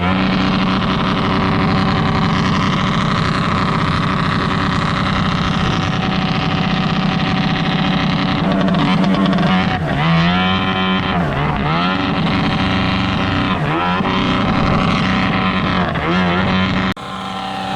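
A loud, close jet ski engine fitted with a hoodstack whines steadily at high revs, then surges up and down in pitch several times before cutting off abruptly.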